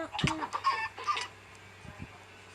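Chicken clucking in the video game Minecraft, a few short clucks and squawks close by over a steady low game hum, fading to quieter background sound.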